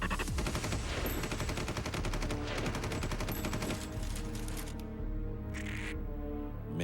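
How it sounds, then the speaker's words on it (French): Rapid bursts of gunfire crackle densely and loudly through a chaotic shootout at a workshop, shots overlapping in a continuous barrage that thins slightly near the end. "les coups de feu fusent de partout"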